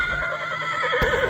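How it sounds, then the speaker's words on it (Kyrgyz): A horse lets out a loud, close whinny, a sustained wavering neigh lasting over a second, with a soft thump partway through and no talk. "Тайсон Кайман атты ат негизинен бул жоош ат, аябай жоош ат экен."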